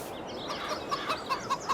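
Chickens clucking on a farm in Farming Simulator 22, short soft clucks repeating in a loose rhythm over a steady ambient bed, fairly quiet and without talk.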